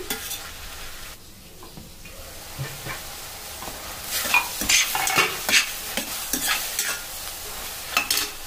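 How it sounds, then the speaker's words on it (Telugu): Pieces of ridge gourd and tomato sauté on high flame in a pan, with a soft sizzle under repeated sharp stirring scrapes that grow busier after a quiet start, near and without voices. "వీటిని ఒక 1 మినిట్ హై ఫ్లేమ్లో మగ్గించుకోండి ముక్కలు వేడెక్కే వరకు."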